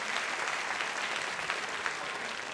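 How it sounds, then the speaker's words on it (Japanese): Audience applause at a Tougeki 2005 Tekken 5 fighting game tournament event, a steady dense wash of clapping that fills the whole moment without pause, with no voices clearly rising above it. "まあ、せめて拍手ください"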